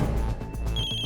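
A mobile phone ringing in a quiet house at night, a short electronic ringtone with clear repeating tones, fairly soft and heard alone.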